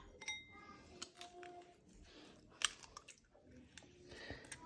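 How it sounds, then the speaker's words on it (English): Two eggs are cracked into a bowl and mixed with a splash of milk, heard as quiet, scattered clinks and taps of utensil against the bowl, faint and close, with some soft handling noise. "break these 2 eggs into that bowl, Robbie, and give them a mix round with a nice slosh of milk"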